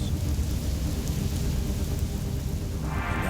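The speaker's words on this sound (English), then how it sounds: "And the storm clouds were gathering in downpours." Heavy rain pours down in a steady, dense roar during a thunderstorm, with low rumbling thunder beneath it and no voices.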